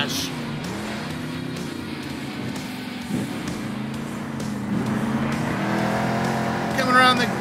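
Monster truck engines racing in the video game Monster Jam Steel Titans, a continuous roaring engine drone that rises as the trucks accelerate, with a commentator talking over it throughout.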